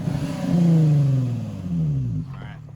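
An Infiniti G35 engine revs after a Seafoam treatment, rising into a loud, rough drone that dips, surges again and then falls away, with brief talk at the end.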